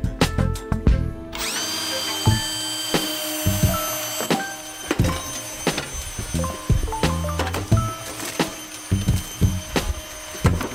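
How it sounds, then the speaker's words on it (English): A power drill whirs in short bursts drilling big holes while framing doorways to underbody storage compartments on a skoolie bus conversion, stopping and starting repeatedly, with clunks and handling knocks between the runs. "With that drill comes great responsibility. Comes with big holes."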